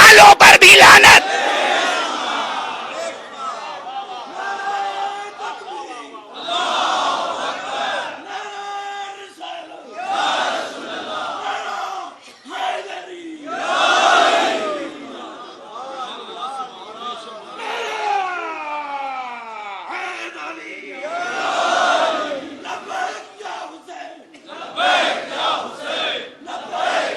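A large crowd chants religious slogans "Ya Ali" and "Labbaik" in loud rhythmic bursts, with a leader's call answered by massed voices, swelling and fading in repeated waves.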